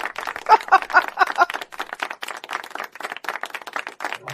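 Podcast hosts clap in a steady patter of close, dry handclaps lasting several seconds, with no talking.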